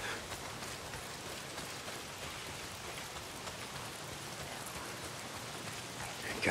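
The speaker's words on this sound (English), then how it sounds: "Damn rain. If it's not the freaks, it's the goddamn rain." Steady rain pours down in the video game Days Gone, a continuous hiss of drops on surfaces with no voices, holding at an even, moderate level throughout.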